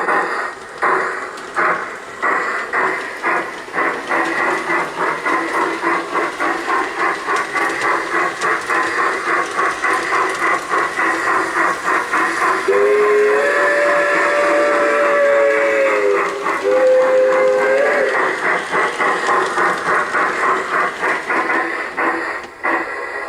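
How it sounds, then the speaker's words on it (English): A White Pass model steam train rumbles past with a steady rapid chuff and hiss, then its steam whistle sounds in two long mellow blasts midway through, the run-by staying loud and close throughout with no talking. "here's our new White Pass train on the way to the Yukon"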